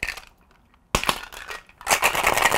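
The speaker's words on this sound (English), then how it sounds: "Add some ice and then seal and shake." A cocktail shaker packed with ice and cold brew coffee, Irish whiskey and bitters is sealed and shaken hard, giving loud close rattling bursts after a quiet moment.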